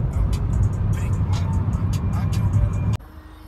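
Car driving on a long road journey to Aviemore in Scotland, steady engine and road rumble filling the cabin with some voices over it, cutting off abruptly near the end.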